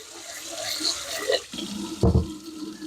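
Japanese rice being rinsed in hot water, with a soft splash and sloshing of water that builds to a fuller wash near the end; close and moderately loud.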